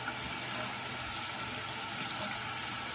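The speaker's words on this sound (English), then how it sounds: "Get this blade wet and warm." Tap water runs steadily over a razor blade during a wet shave, a continuous close hiss and splash with no pauses and no voices.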